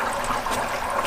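Water poured into a boat engine's coolant system during cleaning, a steady close trickling and splashing flow that continues evenly throughout without talk.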